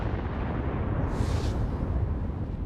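A nuclear test explosion's shock wave arrives as a loud, continuous low roar, with a brief hissing surge of blast noise midway, and no voices.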